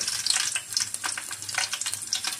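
Garlic fries in hot oil in a pan, a steady, close crackling sizzle with rapid tiny pops throughout.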